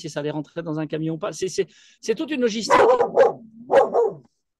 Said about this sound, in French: Ça, c'est le chien.